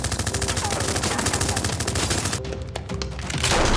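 A rapid, sustained burst of automatic gunfire in an action film, loud and close, rattling continuously before a brief lull and then resuming.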